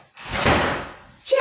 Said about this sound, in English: Katie, don't slam the car door.